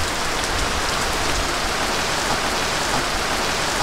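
Steady, dense rainfall in the rainy season, a loud continuous hiss of drops hitting surfaces with no pauses and no voices.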